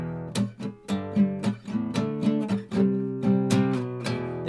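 Electric or acoustic guitar strums the chord progression of a song alone, with steady rhythmic strums ringing out clearly and closely, no voices.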